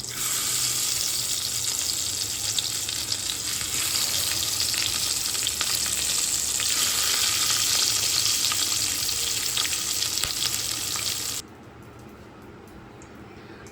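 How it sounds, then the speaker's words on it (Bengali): Tangra fish frying in hot oil, a loud, continuous close sizzle that runs steadily before dropping suddenly to a quieter hiss near the end. "এবার মাছটা ভেজে নেব।"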